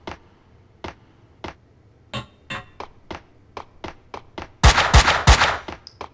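Gunfire in the Max Payne 2 video game: a string of sharp single shots at irregular intervals, then a loud dense burst of rapid automatic fire near the end, with no talking.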